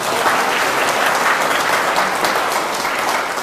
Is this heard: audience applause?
yes